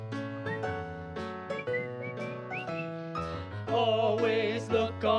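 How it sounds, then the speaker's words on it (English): Melodic whistling carries a tune along with a sung song and instrumental backing, the pitched whistle lines gliding and sustaining over steady accompaniment throughout. "just purse your lips and whistle"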